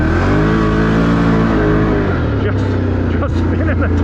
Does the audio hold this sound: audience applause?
no